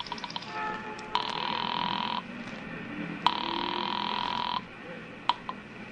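An old telephone rings on the line after dialing in a vintage radio drama, two long, steady electric rings with a pause between them and faint clicks, no voices over it.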